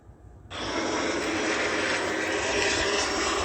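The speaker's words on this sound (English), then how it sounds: "just plane after plane after plane" Airplanes passing close overhead in a steady stream, one roaring engine rising suddenly and then holding loud and continuous with no talk.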